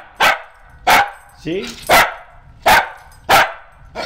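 A clean white dog barks six sharp times in a steady rhythm, loud and close, with a short vocal whine between barks and a brief spoken word from a person.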